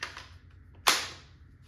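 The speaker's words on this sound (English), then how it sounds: "I'll shoot off 2." A Pepperball VKS less-lethal launcher with a power barrel and a bypassed regulator fires, giving a close, sharp pneumatic crack with a quick decaying hiss after a softer opening pop.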